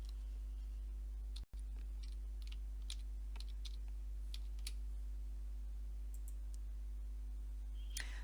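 Someone types a name on a computer keyboard, producing sparse, quiet key clicks scattered irregularly over a steady low electrical hum, with one brief dropout early on and no talking.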